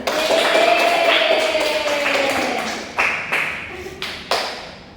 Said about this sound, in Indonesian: Lihat temannya semuanya. Tepuk tangan.